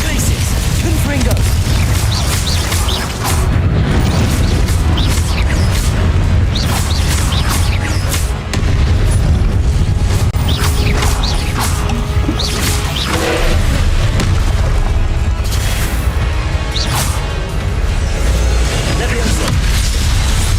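Confringo spell blasts and combat effects in Hogwarts Legacy, a dense, continuous barrage of booms, crashes and whooshes over about twenty seconds, loud, with a voice speaking intermittently.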